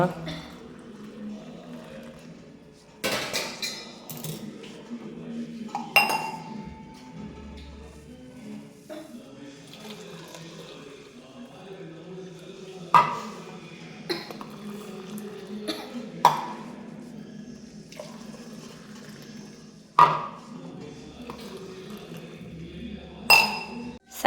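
Cups and spoons clink in short, scattered bright taps as sugar is added to coffee being made at home, with soft voices talking in the background.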